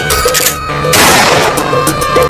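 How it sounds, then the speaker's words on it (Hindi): Loud, continuous gunfire from two guns in a cartoon kids' story, set in a jungle and aimed at a pair of snakes, with dense overlapping bursts of shots filling the whole moment and ending abruptly. "दोनों बंदूक से गोली चला देता है"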